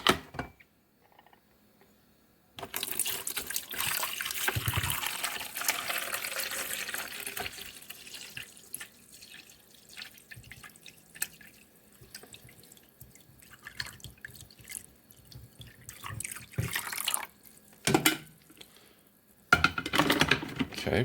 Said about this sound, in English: I will be adding the water right now